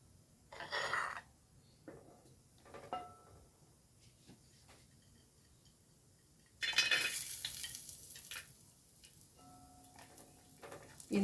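Cashew nuts tipped into ghee in a pan for jackfruit payasam give short bursts of sizzling and spoon-stirring, with quieter gaps and light metallic taps in between.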